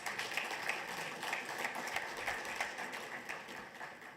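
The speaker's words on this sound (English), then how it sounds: "So really a hand of applause to all the hackathon participants." A seated workshop audience applauds hackathon participants with steady, moderately distant clapping that holds an even texture for about four seconds.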